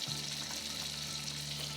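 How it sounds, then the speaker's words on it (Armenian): Halved garlic cloves fry in hot sunflower oil, giving a steady, close sizzle that carries evenly throughout with no one speaking. "Հիմա սխտոր կդնենք, երկու մասի եմ բաժանել, որպեսզի ուղղակի սխտորը համեմվի յուղի մեջ"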